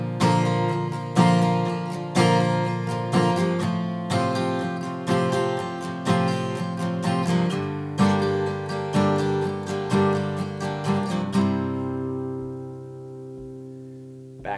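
An acoustic guitar strums a chord progression in a steady rhythm, changing chords every couple of beats, then lets the last chord ring out and fade.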